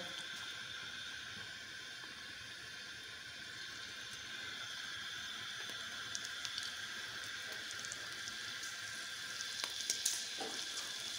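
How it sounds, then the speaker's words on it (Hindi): Canola oil sizzles faintly on heated grain feed in a pan, a soft steady frying hiss with small crackles and stirring clicks growing toward the end. "इसके अंदर मैं 1 टेबल स्पून की क्वांटिटी जितना कनोला ऑयल ऐड करूँगा"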